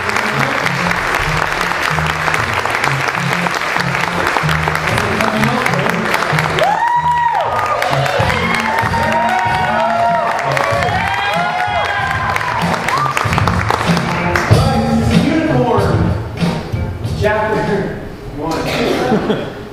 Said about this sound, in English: Please give our storyteller a round of applause.